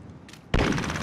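A sudden heavy burst of gunfire erupts in a team deathmatch shooter, loud and dense, breaking in after a quieter moment with a brief faint voice before it.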